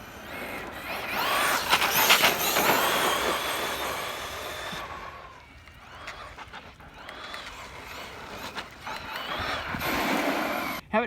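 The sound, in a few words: Arrma Kraton EXB RC car driving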